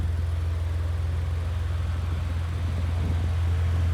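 A 2018 Maserati Levante S with its exhaust in sport mode, idling with a steady, deep, loud rumble that holds constant throughout, with no talking.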